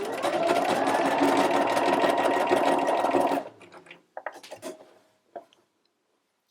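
Sewing machine running an overlock stitch along a fabric edge with an overlock foot, a fast steady whirring hum for about three seconds, then it stops and gives way to a few light clicks and handling sounds.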